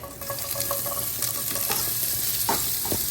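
Cauliflower sizzles in a hot pan with a little avocado oil, a steady close crackling hiss broken by occasional scraping stirs and a faint tonal hum in the background.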